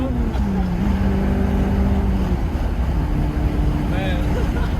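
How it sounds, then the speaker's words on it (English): A Honda with a swapped-in DOHC VTEC engine, replacing the B18B1, drones with a steady engine tone that shifts pitch slightly, under constant road and wind roar, with voices talking over it. "the exhaust sounds amazing"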